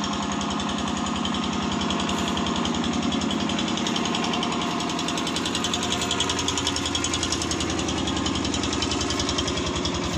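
Balkar B525 combine harvester engine running at a steady idle, a loud, close, rapid knocking diesel rhythm that holds evenly throughout with no break.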